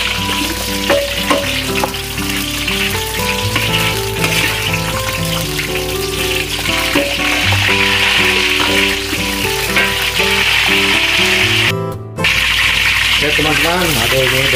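Lemongrass frying in hot oil for Banyuwangi chicken noodle sauce, a loud continuous sizzle with bubbling and occasional stirring, close up throughout with a brief pause before it resumes.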